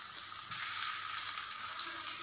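Kola urundai meatballs frying in a pan of hot oil, giving a steady close hiss and crackle with small pops throughout, with no voices.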